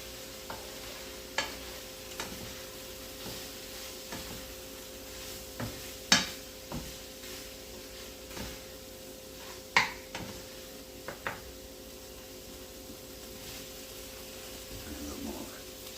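Flour stirred in a hot pan for grits, a soft steady sizzle under scattered spoon scrapes and light clinks against the pan, with a faint background hum.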